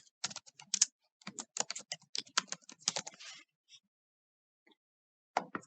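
Quick, close clicks from a computer keyboard as text is typed in rapid bursts, pausing briefly before a final short flurry of keystrokes.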